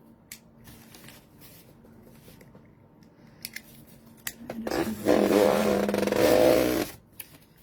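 A knife blade slicing through journal cover material, a rough scraping cut that builds to a loud sustained rasp for about two seconds before stopping, with softer handling noises before it.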